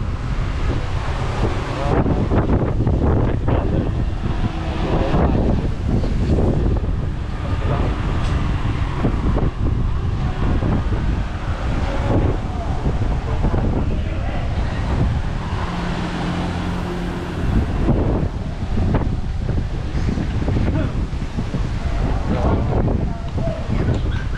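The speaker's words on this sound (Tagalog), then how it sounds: "Lakas ng hangin." Strong wind in Santorini, Greece roars and buffets the microphone continuously, a loud rushing blast with faint voices buried underneath.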